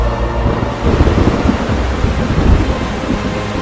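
Heavy rain pours down steadily with deep rolling thunder rumbling through it, a sudden downpour in an animated 3D Vietnamese fairy-tale cartoon, loud and close with no voices.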